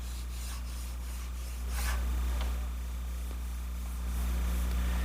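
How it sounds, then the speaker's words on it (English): Raised grain on a stained wooden cabinet door sanded by hand, a continuous close rasping rub with steady strokes and slight swells in loudness, heard alone without talk. "when I sanded this door for staining, I sanded it to the same level as this"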